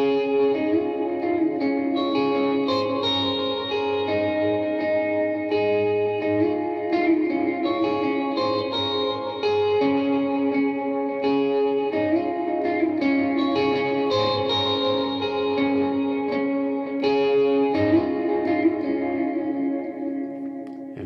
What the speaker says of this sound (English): we're going to put that dispatch master on, that reverb and the extra delay